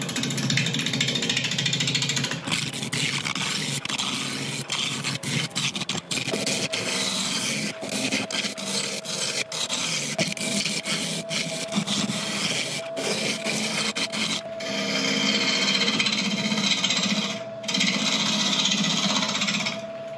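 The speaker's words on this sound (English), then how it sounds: "we shall start turning at about" Cherry wood spinning on a lathe at around 900 RPM under a spindle roughing gouge, giving a loud, continuous rattling, scraping roar with gritty chatter throughout, close up and with no speech.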